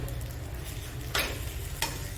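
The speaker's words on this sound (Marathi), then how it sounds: "म्हणजे पातळ डोसेसुद्धा सुंदर निघतात" A thin dosa fries on a new tawa with a soft, steady sizzle and two sharp spatula scrapes a second apart. No one speaks.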